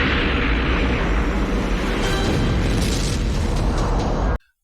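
A missile deflected in a Beast Wars cartoon explodes in a loud, sustained roaring blast that fills the clip with rumbling, crackling debris noise before cutting off abruptly near the end.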